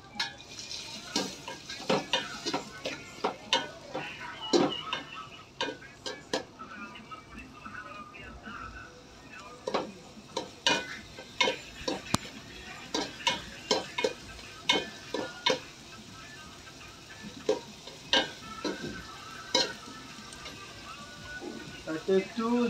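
Beef khichuri cooking in a pot is stirred with a metal spoon, giving repeated clanks and scrapes against the pot over a low sizzle, with a voice talking at times.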